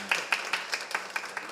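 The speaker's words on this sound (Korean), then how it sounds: "그래도 환영의 박수 해주세요" Welcoming applause from a church congregation during a Sunday worship service, a small group clapping in a steady, fairly regular rhythm at moderate distance, with no talking.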